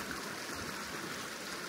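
Weber Creek flows beside a mountain trail with a steady, soft rushing of water, continuous and fairly faint with no voices.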